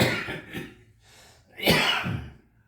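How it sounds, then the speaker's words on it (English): A man coughs in a few sharp, breathy bursts, the last one louder and longer, heard close up with short pauses between. "You see, he coughs."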